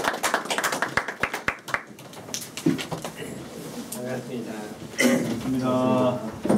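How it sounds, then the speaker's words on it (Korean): A handful of sharp, scattered hand claps from a small group welcome a speaker at a Korean gathering. The brief applause quickly gives way to a voice talking over the room. "박수로 모시겠습니다."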